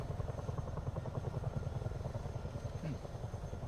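A C500 helicopter in Microsoft Flight Simulator 2024 drones steadily with a rapid rotor chop pulsing throughout, loud and continuous, with a voice faintly present underneath.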